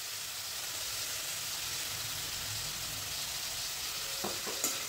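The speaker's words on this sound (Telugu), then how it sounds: "అన్నీ వేసి మంచిగా ఫ్రై చేసేసుకోండి" Vegetables and peas fry in ghee for a brown rice pulao, making a steady, even sizzle close by with a few small clinks near the end and no talk.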